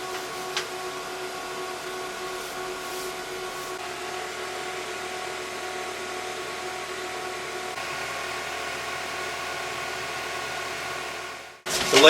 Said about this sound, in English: The laser's still going